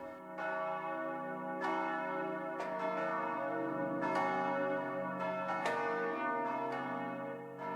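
A large historic church bell, recast about 270 years ago, tolls in a tower with slow, regular strikes whose rich ringing tones overlap and sustain between hits.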